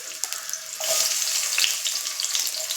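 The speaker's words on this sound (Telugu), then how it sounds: "వేసి కొంచెం పచ్చి వాసన పోయేలాగా వేంపేసుకోవాలి ఈ టమోటో, ఆనియను, మసాలా దినుసులన్నీ" Tomatoes, onion and whole spices such as cardamom, cinnamon and cloves frying in a pan, a steady close hiss and sizzle with faint stirring, growing a little louder partway through.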